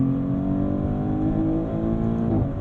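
A Maserati GranTurismo Trofeo engine hums close and steady from inside the cabin, its tone climbing gradually during a paddle-shifted drive, with no voices over it.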